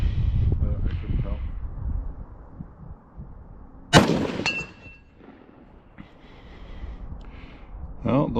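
A DPMS LR-308 first-generation AR-10 rifle in .308 fires offhand outdoors: one sharp, loud report stands out mid-clip with a quick echoing tail, framed by talk and muffled low rumbles before and after.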